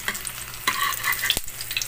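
An egg frying in a pan, sizzling and crackling steadily at close range with a few sharp utensil taps and scrapes, no voices.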